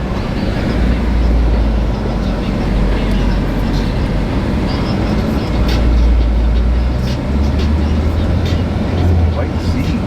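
A yellow car's engine rumbles low and steady at a Cars and Coffee car show, swelling as it passes close by, with crowd chatter and voices mixed in around it.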